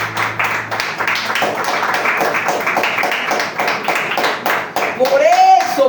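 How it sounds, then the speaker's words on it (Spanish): A church congregation applauding during a morning service, a steady patter of many hands under a preacher's voice, with a brief sung or sustained tone near the end. "Dale un fuerte aplauso en esta mañana"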